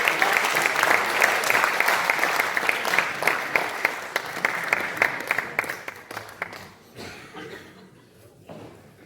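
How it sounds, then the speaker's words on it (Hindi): A crowd at a Hindi poetry gathering applauds loudly and steadily, the clapping thinning out and fading toward the end with a few scattered claps lingering. "और एक बार जोरदार तालियां"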